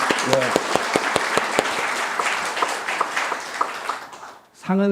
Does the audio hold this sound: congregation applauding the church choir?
yes